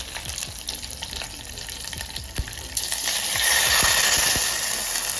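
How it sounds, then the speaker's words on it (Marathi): Quiet sizzling and clinks, then half a cup of water is poured into a hot curry-leaf tempering, setting off a loud, hissing surge of steam and bubbling that continues steadily. "अर्धा कप पाणी टाकलं मी"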